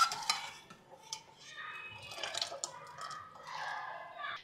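Cooked rice is spread evenly over thick mushroom masala gravy in a pot for mushroom dum biryani, giving soft, irregular scrapes and light utensil clinks at close range, fairly quiet and without talking.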